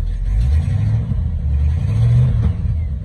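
A 1966 Cadillac Coupe DeVille V8 idles and revs with an exhaust manifold leak, its deep rumble loud and close, rising and falling in a couple of mild swells with no talk.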